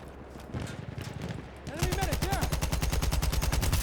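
Rapid automatic gunfire rattles in Battlefield 1, first as a lighter burst, then as a louder, denser and steady stream of shots, with the game's ambient sounds around it.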